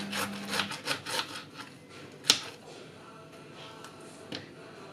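A knife cuts through a pineapple in a kitchen with a series of soft, rhythmic rasping strokes, close and fairly quiet, followed by a sharp click.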